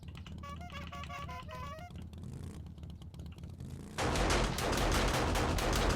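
Rapid automatic gunfire in the 7 Days to Die video game bursts in loudly partway through, sustained and dense after a stretch of quieter game sounds and music-like tones.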